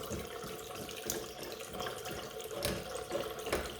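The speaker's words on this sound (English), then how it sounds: "Left side, water running fine. Right side, water also running fine." Water runs steadily from the taps of a bathroom hand basin, a continuous close splashing hiss with no talking over it.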